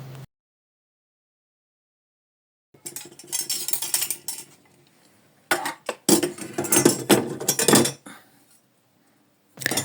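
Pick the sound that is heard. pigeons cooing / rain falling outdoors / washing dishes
washing dishes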